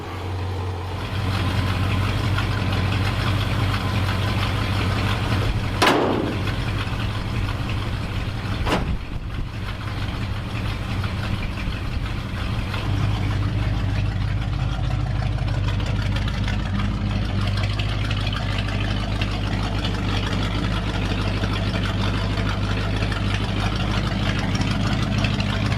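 A 1966 Ford F-250 pickup's engine idles with a deep, steady dual-exhaust rumble, close and continuous, with a couple of brief clicks early on.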